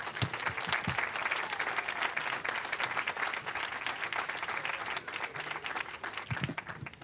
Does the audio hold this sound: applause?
yes